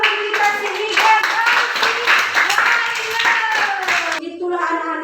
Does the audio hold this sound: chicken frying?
no